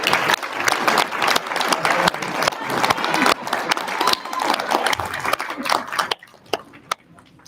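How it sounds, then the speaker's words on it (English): An audience at a fall nurse pinning ceremony breaks into sustained applause with crowd noise, loud and dense for several seconds before tapering off to a few last claps. "give them an applause for being able to be here"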